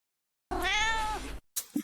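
A pet cat gives one drawn-out meow close by, followed after a short pause by a brief second chirpy call, heard during a computer build.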